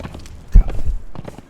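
Horse hooves clip-clop in a video game, a few quick thuds close together at moderate loudness, with faint voices in the background.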